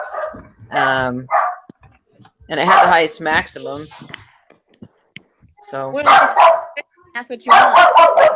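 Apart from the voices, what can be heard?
dog barking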